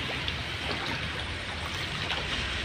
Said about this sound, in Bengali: এই যে জল